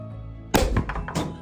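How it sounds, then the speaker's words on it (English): A hydrogen and chlorine gas mixture in a test tube detonates under a UV laser, giving one sudden loud close bang that blasts the stopper out, followed by a brief clattering rattle and a second smaller knock. "It'll create an exothermic reaction where you have a lot of thermal expansion in the test tube, and it'll make a loud bang"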